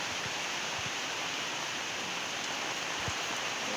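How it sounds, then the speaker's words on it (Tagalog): Heavy rain pours down in a steady, loud roar over several seconds, with a few distinct drops thudding on a nearby surface and no voices. "Sobrang lakas uli ng ulan."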